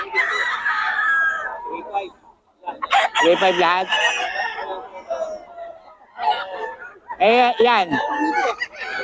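Several roosters crow loudly in bursts with clucking fowl around them in Bocaue, while someone talks over the birds.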